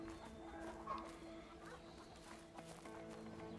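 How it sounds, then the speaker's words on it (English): Chickens cluck softly at a coop in a video game, a faint, steady murmur of fowl sounds under ambient background. "Chicken coop."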